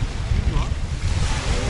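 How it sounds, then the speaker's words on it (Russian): Strong gusty wind buffets the microphone at a beach in Bodrum, Turkey, with a steady low roar, and ocean surf rumbles underneath; no clear talk. "Вот так вот здесь ветрено"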